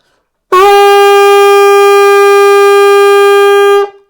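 One sustained alto saxophone middle E rings out loud and steady for about three seconds, bright and reedy, then stops cleanly; no talking.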